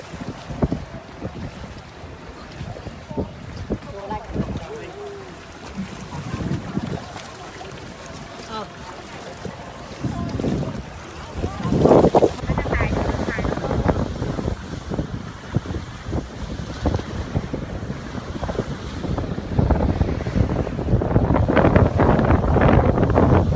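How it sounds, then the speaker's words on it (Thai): Strong wind roars into the microphone aboard a boat on the sea off Krabi, a constant loud buffeting rush with water sloshing beneath, while people talk intermittently throughout. "ลมแรงมากเลย"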